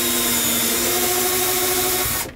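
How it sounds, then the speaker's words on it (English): Bosch cordless drill or impact driver running steadily at high speed during an RV cabinet repair, a loud close whine with a tonal hum that stops abruptly after about two seconds. "This drill and this impact driver have been super handy for these projects."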